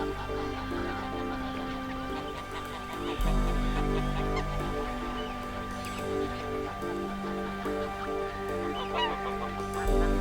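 A black-headed gull calls harshly and repeatedly while Arctic skuas chase and harry it over the coast. The loud, honking cries come close together in a steady run with no talk.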